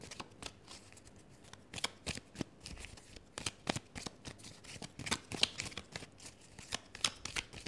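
Tarot cards shuffled by hand for a card reading: soft, close riffling and flicking in quick repeated bursts, steady and rhythmic throughout, with no talking.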